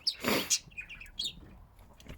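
Chinese painted quail chirp in a few short, high, thin calls, with a brief burst of fluttering or scuffling near the start, fairly quiet and close, with no talking.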